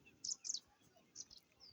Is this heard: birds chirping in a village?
yes